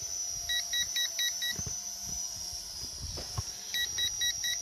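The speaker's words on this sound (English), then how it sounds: "The battery's getting low, which is why it's beeping." Quick bursts of high electronic beeps from a drone's low-battery warning repeat in two clusters, over a steady motor whine and faint outdoor rustling.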